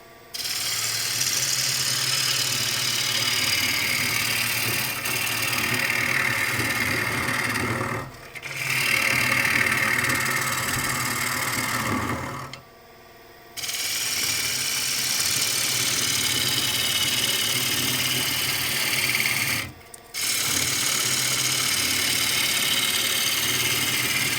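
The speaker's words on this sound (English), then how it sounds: "Now with a half-inch ball gouge you can't take large volume, but this is so hard, this elm" Hard elm being cut on a wood lathe with a half-inch ball gouge, a steady close whirring and scraping drone that breaks off briefly around 8, 13 and 20 seconds before resuming.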